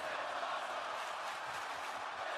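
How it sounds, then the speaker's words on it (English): Wrestling arena crowd roaring and chanting Daniel Bryan's name during his match with Kassius Ohno, a dense, steady wall of massed voices filling the whole stretch without a break. "The crowd chanting his name."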